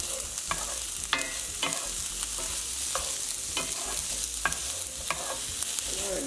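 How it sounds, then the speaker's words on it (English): Pasta with summer squash, corn and tomatoes stirred in a pan over steady sizzling, with a spoon scraping and clacking every half second or so in a regular rhythm, close and without talk. "stir occasionally, make sure everything gets cooked evenly"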